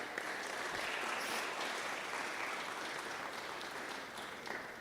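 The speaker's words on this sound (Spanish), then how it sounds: "Dese un aplauso porque usted es parte de eso." A church congregation applauds in a steady, even wash of many hands clapping at moderate distance, sustained for several seconds and tapering slightly at the end.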